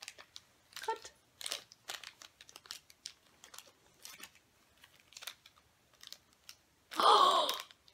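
Scissors snip open a Shopkins Season 3 blind bag with a short, loud burst of cutting and crinkling plastic near the end, after scattered faint rustling and small handling noises.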